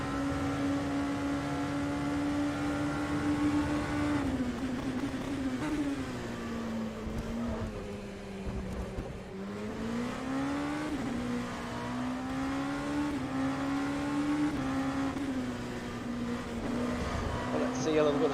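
Race car engine at Monza in a Le Mans Virtual Series racing video game, a continuous droning whine that rises and falls with the throttle over eighteen seconds, with someone talking over it.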